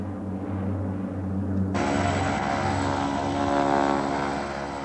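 United Nations propeller aircraft flying between lowland and mountain airstrips in the Himalaya, a steady loud engine drone whose tone shifts partway through and then continues as a dense cabin roar.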